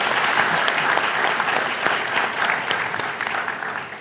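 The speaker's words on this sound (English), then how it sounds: "I will ask you to give the panel a round of applause" An audience applauds the panel at a public consultation and website launch event, with sustained, even clapping throughout at a fairly loud, close level and no speech over it.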